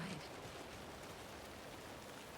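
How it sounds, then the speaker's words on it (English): Steady rain falls in Alan Wake 2, a faint, even hiss of drops spread across a wide band with no distinct pattering rhythm, low in level and unbroken throughout. "The rain's picking up."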